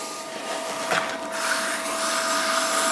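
A pottery wheel spins steadily while clay is thrown, giving a continuous motor whir with a faint wet rubbing sound in the middle and no voices.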